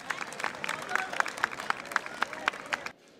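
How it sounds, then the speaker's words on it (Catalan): Enthusiastic crowd at a Christmas fair gives a warm ovation to a bastoners stick-dance group, steady clapping heard from a little distance for about three seconds before it cuts off. "El públic entusiasmat va regalar a la colla una gran ovació"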